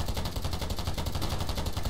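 Rapid bursts of gunfire from a free PC first-person shooter video game, dense and loud, firing continuously like automatic weapons with no voices.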